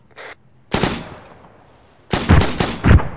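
Gunfire in the Arma 3 military video game: a short burst, then a loud automatic volley, and after a pause several more sharp, close bursts in quick succession, with no talking.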